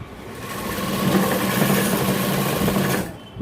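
A tailoring sewing machine double-stitches the neck of a 42-inch jacket, a close, continuous whirring run of about three seconds that cuts off abruptly.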